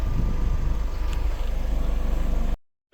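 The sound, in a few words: Mitsubishi L300 Euro 4 driving after turbo cleaning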